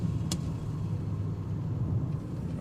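A car engine idles and runs steadily after driving through floodwater on a rainy road, heard as a constant close low rumble with a brief sharp noise near the start and no talk.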